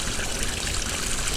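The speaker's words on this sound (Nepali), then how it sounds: "पानी कति ठुलो आउने रहेछ पानी त भाइ" Heavy water rushing and gushing in a loud, dense, continuous flow, close by and with no other sounds.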